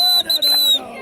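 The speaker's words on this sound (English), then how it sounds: "Use your whistle." A hand whistle blown on a February 2018 Kilimanjaro trek: one shrill, steady, high tone lasting almost a second, broken by two brief dips, with no talk.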